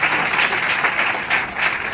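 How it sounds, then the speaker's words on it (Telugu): A wedding audience applauds loudly and steadily, many hands clapping together in a continuous, close wash of sound. "ఒకసారి చప్పట్లు కొట్టండి గట్టిగా"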